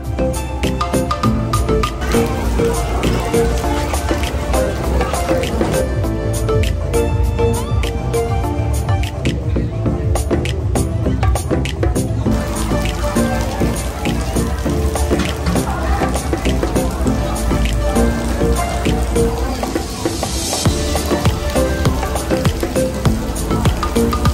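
Heavy rain at night during the Nha Trang sea festival in Vietnam, a dense continuous patter and hiss of drops hitting surfaces, loud and close throughout, with a faint voice now and then.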